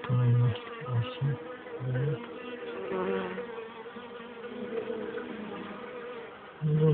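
Bees and wasps buzz steadily around an open beehive during a September check for varroa mites, a dense close insect drone throughout with louder low hums near the start and end.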